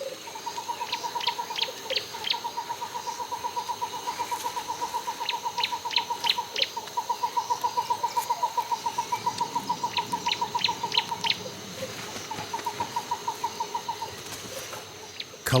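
Turacos call in the Ruwenzori Mountains rainforest: long, rapid runs of hollow pulsed notes repeat in several bouts, with sharper higher calls mixed in, clear and moderately near over a faint forest hush.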